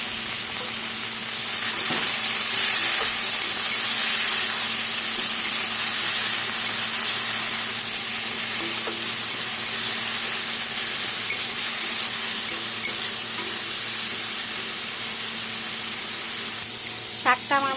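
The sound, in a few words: red amaranth greens cooking in a pan with turmeric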